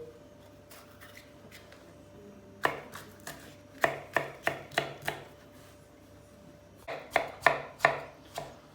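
Three green peppers being chopped on a cutting board for an eggplant dish: crisp knife strikes in short bursts, a few scattered taps, then quick runs of four or five chops, close and clear, with no talk.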